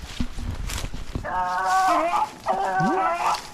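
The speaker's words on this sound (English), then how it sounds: "So this chase started with a couple of barks by Molly" Beagles bay while chasing a rabbit on a Pennsylvania hunt: two long, wavering howl-like bays ring out loud and close, after a few scattered short barks and rustling at the start.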